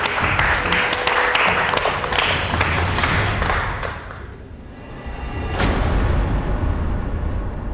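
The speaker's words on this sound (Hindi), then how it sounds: "फिर से तालियां।" A large audience applauds on a television drama set, a dense, loud, continuous wash of clapping. It dips briefly partway through and then swells again.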